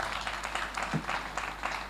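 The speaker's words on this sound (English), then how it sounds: "Once again, a round of applause for Daman." Scattered clapping from an audience, fairly faint and thin, with no voices.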